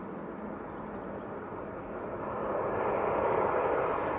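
A TUI airliner arriving from Lanzarote at Manchester Airport, a broad hissing jet rumble that builds and grows louder toward the end, with no voices.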